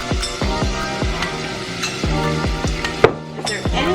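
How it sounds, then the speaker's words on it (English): Diced onions hit melted butter in a pan, a bright close sizzle broken by a quick series of sharp taps and scrapes of a utensil against the pan. "The butter is in. I'm gonna add the diced onions."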